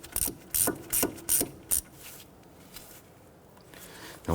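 A ratchet wrench tightens the ABS sensor bolt during a front wheel bearing job on a 2006–2014 Honda Ridgeline. Four or five sharp, close clicking bursts come in quick succession, then a quiet pause with faint handling noise.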